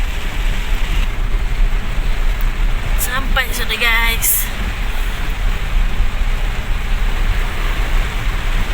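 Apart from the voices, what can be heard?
heavy rain on a palm oil farm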